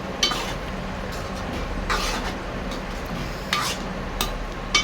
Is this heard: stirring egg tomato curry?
yes